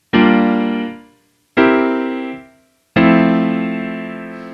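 Piano plays a 2-5-1 progression in F with closed voicings: three sustained block chords struck one after another, each ringing and fading before the next, clear and close.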